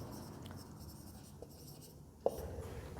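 Marker or chalk scratching across a board as a maths teacher writes a geometry note, faint, quiet strokes with a sharper tap near the end.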